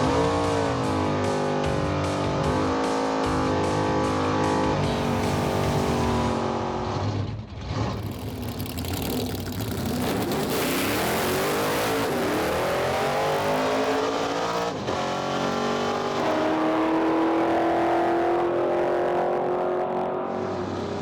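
A drag race car makes a timed run down the strip, loud and close, its engine revving in repeated rising bursts through the gears before roaring on and fading, with no talk over it.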